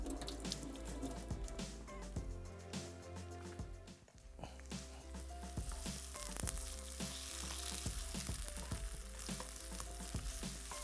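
Onion, green chilli and ginger-garlic paste fry together in a pan with a steady, crackling sizzle that runs alone for about ten seconds and dips briefly midway, while faint tonal sounds ring over it.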